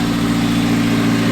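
A Nissan 240SX engine with a new exhaust idles high with a steady, even rumble and a low vibrating drone, close and continuous with no voices.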